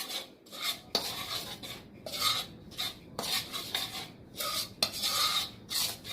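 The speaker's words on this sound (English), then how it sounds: "since it's got the instant dry yeast in there, you want to mix it up really good" Pizza dough of flour, water, salt, oil and instant dry yeast being mixed by hand in a bowl, a steady series of scraping, rasping strokes repeating about once a second, close and alone with no talk.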